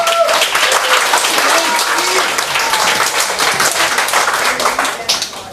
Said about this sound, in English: Please give a round of applause for Rabbi.